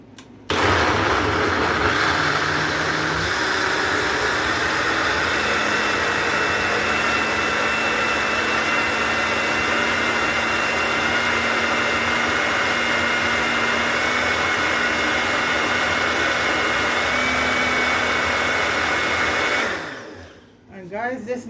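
A Ninja blender runs loud and steady for about twenty seconds, blending coconut with warm water into a fine cream, then winds down at the end.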